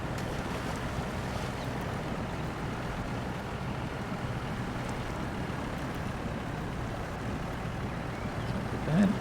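A SnowRunner truck driving through shallow water produces a steady, even wash of churning water and low engine rumble with no breaks, close and fairly loud from start to finish.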